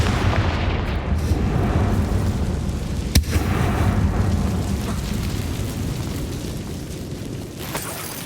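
A Confringo fire spell exploding in Hogwarts Legacy, a deep rumbling blast with a sharp crack near the middle, followed by a sustained roaring burn that slowly tapers off.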